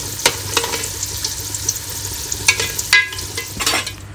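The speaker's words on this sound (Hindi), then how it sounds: "तो ये आलू हमारे फ्राई हो चुके हैं" Potato pieces frying in oil in a pan for chicken biryani, giving a steady crackling sizzle broken by sharp clicks and scrapes of a utensil turning them, close and loud, with no voice.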